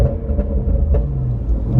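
A Range Rover SVR's engine and exhaust rumble steadily and loudly close by, a deep continuous drone with slight swells, no talking.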